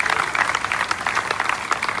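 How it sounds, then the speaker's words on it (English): An outdoor crowd at the unveiling of the 7 Ladies Monument in Savannah, Georgia claps in a dense, steady burst of applause for a couple of seconds. "you clap right there"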